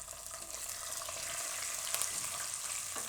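Green chillies frying in hot oil for mixed vegetable upma, a steady close sizzle with faint stirring clicks, no talking.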